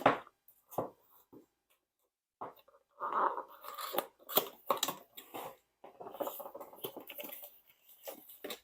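A sealed Diamond Dotz package is cut open with short, crisp scratching and crinkling bursts, some close and some brief, separated by quiet pauses.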